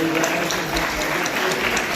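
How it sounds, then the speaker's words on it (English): A graduation ceremony audience at Tbilisi State Medical University applauds the organizing team, a dense, loud, continuous patter of many hands, with a speaking voice mixed into it. "express the applause to our team who are helping you"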